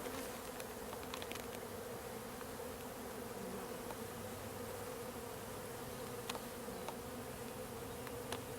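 Honeybees swarm and buzz around an opened beehive, a dense, steady droning hum that stays close and unbroken, with occasional individual bees zipping past and no talking.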